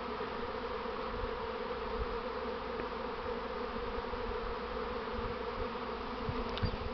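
A first swarm of honey bees from an apiary hums in a steady, dense drone that stays even throughout, fairly close, with no talking.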